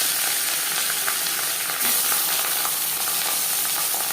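Marinated katla fish fries in hot refined oil, a loud, close, continuous sizzle and crackle that holds steady throughout.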